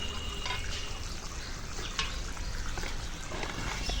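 Water pours and trickles steadily into a container nearby for watering coconut trees, a continuous splashing flow with faint background noise.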